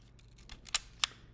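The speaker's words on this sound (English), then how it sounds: "crank and the shutter release" A vintage film camera's crank and shutter release give a few crisp, close mechanical clicks and ratchets, with two sharp louder snaps standing out in a quiet room.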